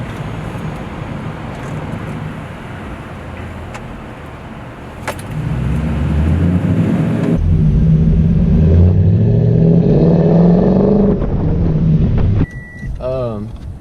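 A Toyota Tundra 5.7L V8 with a Flowmaster Super 44 muffler rumbles loudly, then revs up with a deep burbling exhaust note rising and falling; faint rustling and jangling come near the end.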